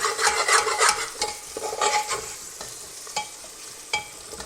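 Tomatoes are sautéed in a pan for a vegan protein biryani, a close sizzling hiss broken by scraping stirs of a spoon against the pan; no talking.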